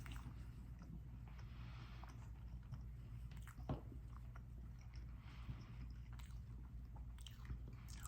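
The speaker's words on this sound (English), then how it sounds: "I'm having breakfast. It's toast with butter and slices of tomato." Close, quiet chewing of keto toast spread with butter and topped with tomato slices, with soft steady bites and crunchy mastication running continuously and no talking.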